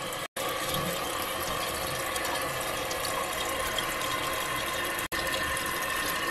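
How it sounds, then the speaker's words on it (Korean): A toilet tank refilling after a flush, with water rushing steadily into the cistern through a newly replaced fill part, a continuous close hiss broken by two brief gaps, no talking. "뚜껑이 제대로 잘 닦여야지만 이따 물이 또 보충이 되겠죠"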